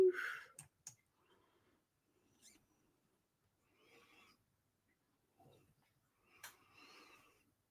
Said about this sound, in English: So I will click approve.